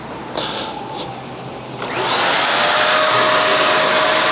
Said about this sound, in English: Regular speed vacuuming passes about like this.